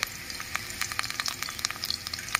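Onion fries in hot oil in a pan for a Bengali potoler dalna, a dense crackling sizzle full of quick popping spatters at close range.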